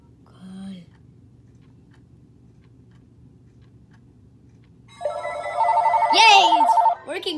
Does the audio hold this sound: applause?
no